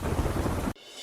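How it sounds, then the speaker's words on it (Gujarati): Heavy monsoon downpour in Umargam, Valsad district, Gujarat, a dense roar of pouring rain with a low rumble, lasting under a second before it cuts off abruptly to near quiet. "ઉમરગામ અને તેની આસપાસના વિસ્તારમાં ધોધમાર વરસાદ વરસ્યો"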